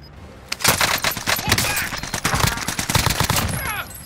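Call of Duty: Modern Warfare firefight with dense, overlapping automatic gunfire, loud and close, sustained bursts rattling for several seconds with irregular shot spacing and a ringing tail.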